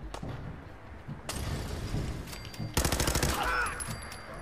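Pipe rifle gunfire in Fallout 4, rapid bursts of shots with a stretch of fast repeated fire near the end, loud and close over game ambience.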